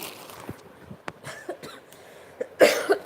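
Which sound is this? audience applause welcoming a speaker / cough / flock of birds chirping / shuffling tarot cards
cough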